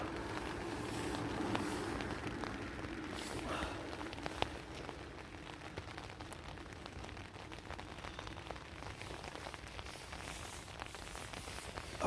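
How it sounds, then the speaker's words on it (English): Heavy rain at night at a stealth campsite on a roundabout, falling steadily as a dense hiss and patter with scattered sharper drops, constant throughout with no voices. "I've been woken up by heavy rain"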